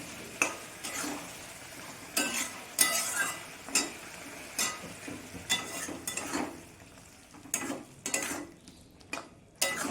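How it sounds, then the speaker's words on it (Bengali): Spices with turmeric and chilli powder being stir-fried in a pan for a Bengali cauliflower, potato and fish curry, a quiet sizzle broken by repeated scraping and clinking stirring strokes at an irregular rhythm. "মশলা আমি ভালো করে কষিয়ে নেব"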